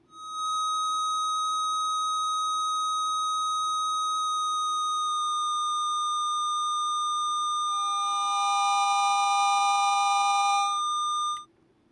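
Steady sine-like feedback oscillator tones from a no-input mixing board, several pure pitches sustained together as a minor chord, one voice dropping lower partway through before all cut off abruptly; loud and clean with no talking.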